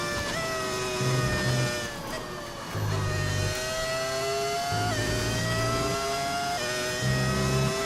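An early-2000s V10 Formula 1 engine, modded into the F1 25 racing game, screams at high revs with rising pitch and sharp drops at each gear change, loud and steady throughout.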